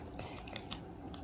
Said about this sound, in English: Now you take the tape, the normal tape, and cut it.